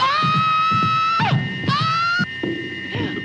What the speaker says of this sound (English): Patient's scream disturbing me.